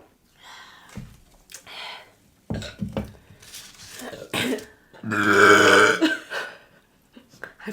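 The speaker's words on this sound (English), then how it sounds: "I forgot you burp like a gremlin." Several loud, croaky burps from a person at a pizza and wings meal, a long rumbling one standing out among shorter ones, with clinks of dishes and brief talk between them.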